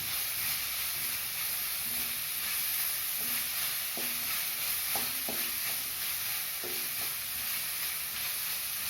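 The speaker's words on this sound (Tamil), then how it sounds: "அதையும் சேர்த்து வதக்கலாம்" Sliced capsicum and carrot sauté in a pan for vegetable noodles, giving a steady hiss with scattered stirring clicks and scrapes throughout, close and moderately loud with no talk.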